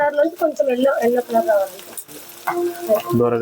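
Nalleru stems and chillies fry in hot oil for a Rayalaseema-style pachadi, a steady sizzle running under continuous talk with a few stirring clatters near the end.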